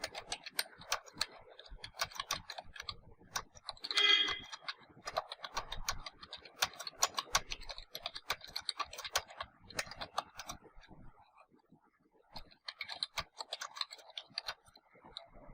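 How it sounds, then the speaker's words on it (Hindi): Quick, light keystrokes as a paragraph is typed on a computer keyboard, close and crisp, in uneven bursts with a short pause near the end before the tapping resumes. "जैसे मैं यहाँ पर एक पैराग्राफ आपको टाइप करके दिखाता हूँ।"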